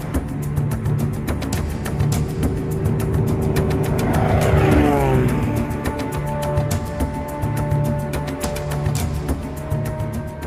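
A light aircraft engine drones steadily in flight, a loud, continuous propeller hum with a slight pitch sweep as a tone passes through midway, and no voices.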